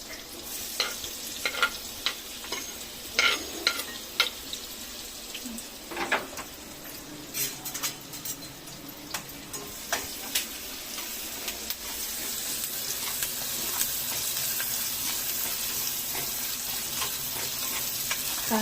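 Onion frying with turmeric in a pan for a Marathi vegetable dish, stirred with repeated scraping clicks over a soft steady sizzle that grows fuller toward the end, with no talking.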